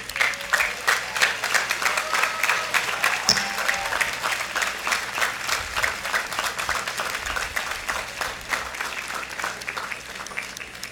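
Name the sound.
audience applauding faculty and staff at commencement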